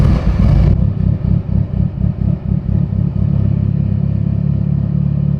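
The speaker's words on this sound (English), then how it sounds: "So let's fire this thing up." A Mitsubishi Evo VIII, freshly rebuilt and running on roughly E68 ethanol, cranks with a rhythmic starter churn and then settles into a steady, loud, close idle.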